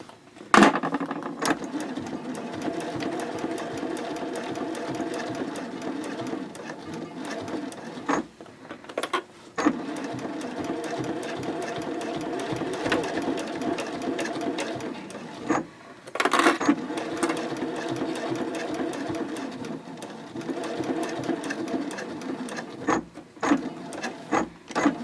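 A sewing machine stitches in the ditch along the binding of a fabric boxy bag at a 3.0 stitch length, a steady whirring hum in long runs broken by brief stops and short back-stitch bursts.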